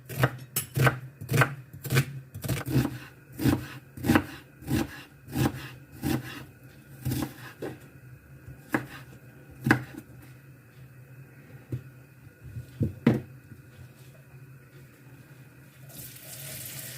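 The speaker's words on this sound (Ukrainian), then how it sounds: "ось так нарізаю цибулю" A knife chops onion on a cutting board in quick, sharp taps that slow and thin out, with faint kitchen noise and running water behind.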